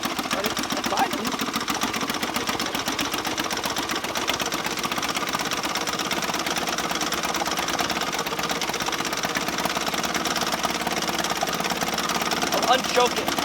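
A 1968 Sears Clinton 3.5hp small engine idles on half choke with a rapid, uneven galloping putter, loud and close, running steadily with a faint voice underneath.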